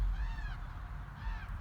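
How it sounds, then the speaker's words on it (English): Crows cawing outdoors in an old cemetery: two drawn-out, faint caws about a second apart, heard from a distance over low wind rumble. "The crows are out here. They're yelling at me, I think."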